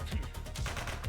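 Gunfire rings out in the police video game The Precinct: a rapid, loud burst of several close shots in quick succession, with no talk.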